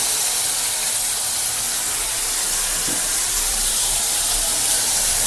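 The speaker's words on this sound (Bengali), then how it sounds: "এবারে টমেটো পিউরি করে রেখেছি, এটা এই তেলের মধ্যে দিয়ে গ্যাসের ফ্লেমটা একটু আস্তে করে দিয়ে" Tomato puree sizzles in hot oil over a low gas flame, with a steady, loud hiss that runs unbroken from start to finish and no talking.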